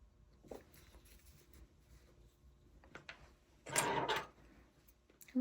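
Home sewing machine stitching fabric for a keychain wristlet, a quiet buzzing run of about half a second, faint and close, with light handling clatter around it.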